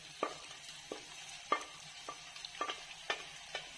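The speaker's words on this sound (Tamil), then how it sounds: "இந்த டைம்ல நம்ம வந்து மசிச்ச கத்திரிக்காய போட்டுடலாம்." Mashed brinjal being stirred into a frying tomato-onion thokku, with repeated scraping strokes of a spoon against the pan at an uneven rhythm over a faint sizzle, close and fairly quiet.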